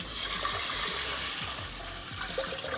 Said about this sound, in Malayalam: അതിലേക്ക് ഞാനിതാ ഒരു പാട്ട വെള്ളം